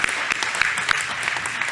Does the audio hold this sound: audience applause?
yes